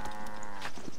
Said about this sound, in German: Ah, das sind Kühe.